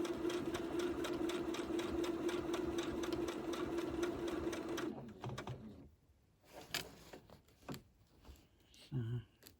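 A sewing machine free motion quilting on a quilt border whirs steadily and close for about five seconds, then stops, leaving scattered handling noises and a voice speaking.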